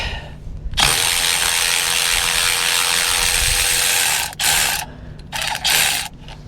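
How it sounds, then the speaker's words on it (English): A DeWalt power ratchet whirs loudly and continuously for several seconds, then gives a few short bursts. It sounds close, with a rapid mechanical buzz, in a work setting on a CAT TH460B telehandler hydraulic pump job. "One thing about these DeWalt ratchets, they sure have a lot of torque."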